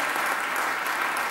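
Applause at an Italian political event presenting candidates: a loud, dense burst of clapping from a crowd, continuous and even for a short stretch.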